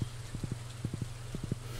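Horse hooves clip-clop in Stardew Valley, the game's farm horse trotting in three quick bursts of three close, crisp steps each, steady and alone without talk.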